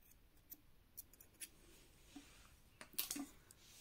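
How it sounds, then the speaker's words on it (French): Scissors snip black crochet yarn with a few faint, quiet clicks, closing in a small cluster of sharp cuts near the end, with no talking. "Et je coupe mon fil de couleur noire."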